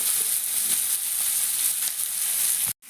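Onions frying in a pan for a Kerala-style boti (tripe) fry, a steady close broadband sizzle that holds evenly throughout, then cuts out abruptly near the end.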